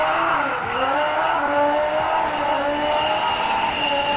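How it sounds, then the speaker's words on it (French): An Audi A1 or Ariel Atom car engine in Need for Speed Most Wanted roars at high revs, pitch sweeping up and down through gear changes, loud and continuous with tire squeal hints. "On va peut-être monter le son pour entendre le moteur, peut-être."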